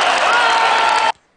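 A packed audience at a thoroughbred horse auction claps together in a dense, steady wash of applause that stops abruptly after about a second.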